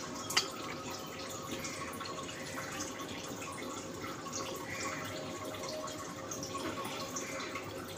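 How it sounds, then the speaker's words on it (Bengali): Cooking oil is poured into a pan set on the stove, a faint steady liquid trickle and drip after a sharp initial clink, quiet and close throughout. "এই যে তেলটা দিচ্ছি।"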